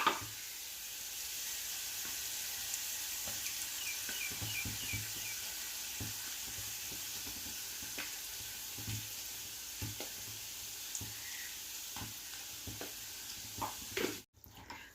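Chili powder fries in hot oil with a soft, continuous sizzle. Faint, irregular taps and scrapes of stirring break through it, and the sound cuts off abruptly at the end.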